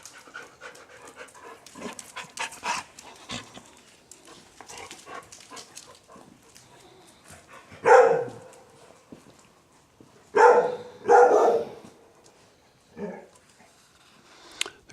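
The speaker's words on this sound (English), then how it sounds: "what are you barking at?" A dog pants and shuffles close by, then lets out several loud barks in short bursts, with scratchy movement noises in between.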